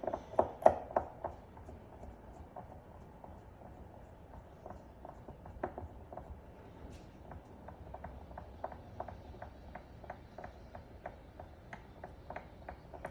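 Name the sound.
screws being driven into an RC car rear differential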